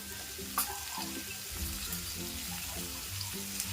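Raw green mango pieces sizzling steadily in hot oil in a pan, a continuous close frying hiss with occasional stirring scrapes and no voices.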